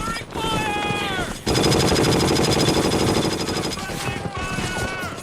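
Gunfire in a World War II combat scene from Band of Brothers, episode seven, The Breaking Point: a dense, loud burst of overlapping shots lasting a couple of seconds, with voices and tonal sounds before and after.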